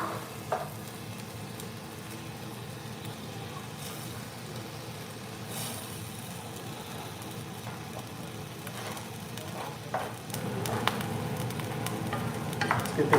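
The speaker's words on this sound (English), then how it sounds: "See, this garlic is getting nice and crispy." Garlic crisping in a frying pan, a steady close sizzle with light scrapes and clicks of stirring, growing a little busier toward the end.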